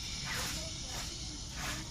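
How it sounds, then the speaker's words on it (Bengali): Malpua batter made with palm frying in medium-hot oil, giving a steady close sizzling hiss with soft crackles throughout and no talk. "মিডিয়াম তেলেই আমি মালপোয়াগুলো ভেজে নেব"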